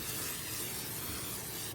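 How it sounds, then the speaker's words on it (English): Canola cooking oil is sprayed from a can into a cast-iron Dutch oven, a continuous close hiss lasting nearly two seconds before cutting off abruptly. "I'm just going to spray everything down with a little bit of cooking oil."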